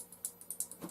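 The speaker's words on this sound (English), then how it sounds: "Contact switch. Clicky clicky." A small contact switch clicks several times in quick, uneven succession: faint, crisp little ticks heard close up with no talking over them.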